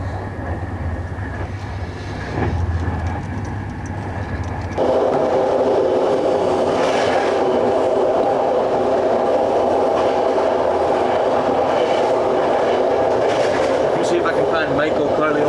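A sleeper train car rolls along the rails with a steady rumbling roar and faint rhythmic clatter that swells louder partway through, while people talk quietly over it.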